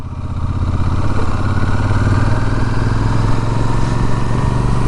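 A Royal Enfield Super Meteor 650 motorcycle rides along at steady speed, its engine a loud, continuous throbbing drone with constant road and wind rumble throughout.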